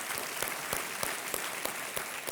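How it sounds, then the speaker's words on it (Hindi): TV quiz show studio audience clapping in thanks for an expert advisor, a moderate, steady patter of many hands with a few sharper individual claps standing out. "तालियों के साथ एक बार फिर इनको धन्यवाद।"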